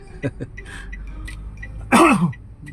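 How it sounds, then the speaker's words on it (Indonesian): A couple of short throat-clearing coughs, then one loud, harsh cough close to the microphone, with quiet breaths between. "saya lagi batuk."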